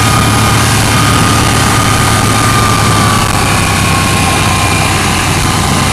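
A KTM 790 motorcycle with a sub-800cc V-twin engine pulls hard under roll-on acceleration, a loud, steady, dense engine roar with wind rush running continuously and alone throughout.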